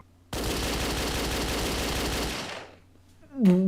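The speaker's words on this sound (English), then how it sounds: "Look, the ceiling. The surveillance camera. It has a machine gun attached." A long burst of rapid machine gun fire from a ceiling-mounted surveillance camera in the Danganronpa Another fangame rattles loudly for about two seconds, then trails off, followed by a brief voice.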